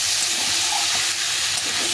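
Cauliflower and potatoes sautéing in a pan for a cauliflower, pea and paneer curry, giving a steady close sizzle with faint stirring scrapes and no talk.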